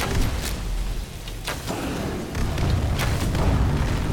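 A heavy booming explosion from an Atronach in the video game Skyrim, modded Special Edition, rolling and rumbling amid continuous battle noise with a few sharp bursts over about four seconds.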